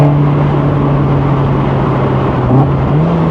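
A Westfield SE NA R-T sports car pulls hard through its gears, the engine note droning loud and close, with a brief dip and a pitch change from a shift partway through.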